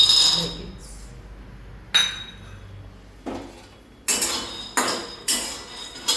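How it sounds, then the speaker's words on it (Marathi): Peanuts are dry-roasted in a hot kadhai, with a metal spoon striking the pan in sharp, ringing clanks, a few spaced out and then a quicker cluster near the end, over quiet background. "आता आपण शेंगदाणे भाजून घेऊया"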